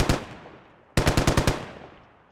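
Sustained automatic fire in a military video game comes as a lone burst, then a pause and a second rapid run of about eight evenly spaced close shots, each echoing and fading out.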